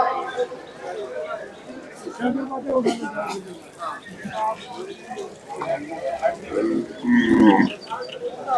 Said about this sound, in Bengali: এখানে বড় একটি গরু দেখতে পাচ্ছি।